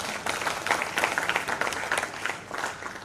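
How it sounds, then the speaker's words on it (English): An audience at a safe motherhood conference breaks into applause, a dense, sustained patter of many hands clapping at once, loud and filling the room without pause. "Another round of applause to..."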